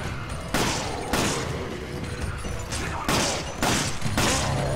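Gunshots in the Resident Evil 5 video game: four or five heavy, booming blasts spaced about a second apart, ringing out over a steady background of game noise.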